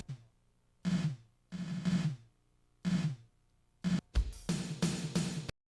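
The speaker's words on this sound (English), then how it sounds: "First, let's add a small, tight reverb." Drum machine pattern with a small, tight reverb, heard alone: separate kick and snare-like hits in short bursts, then a busier run of hits with bright cymbal-like tops near the end, each decay cut off quickly with no talking.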